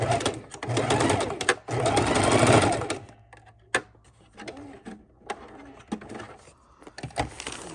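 A sewing machine stitching raw edge appliqué runs in a loud, close burst for about three seconds, then stops, leaving quieter clicks and handling sounds of fabric being turned.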